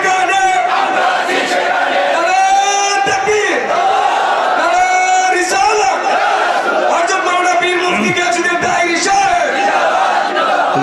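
A large crowd at a religious sermon gathering shouts Allahu Akbar in answer to a takbir call, a loud, sustained massed chant of many voices rising and falling together.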